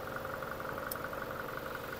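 A 2021 Toyota Hilux D4D diesel engine idles steadily with an even, low rumbling drone and a brief faint click partway through, with no voices.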